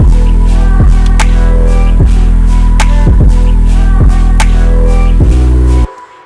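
The drop of an electronic track hits hard, with a heavy, distorted main bass built in Serum pulsing in repeating rhythmic bursts under crisp percussion, loud and dense before cutting out abruptly.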